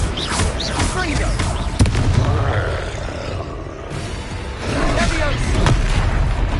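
A Confringo fire explosion spell is cast in Hogwarts Legacy, giving dense, loud, continuous booming blasts and crackling roar, with spoken voices mixed in over the action.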